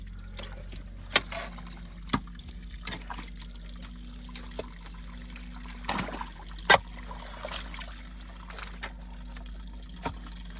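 Rainwater drains and trickles from a burst leak in waterlogged ground, a faint, steady dribble with scattered louder splashes and drips, heard alone.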